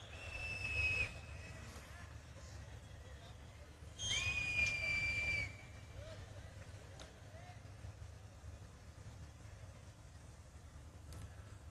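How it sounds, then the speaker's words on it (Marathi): Rally crowd whistling, two shrill mouth whistles, the second longer, cutting above a steady murmuring crowd and distant noise. "तोंडातली आहे का कुकरची शिटी आहे?"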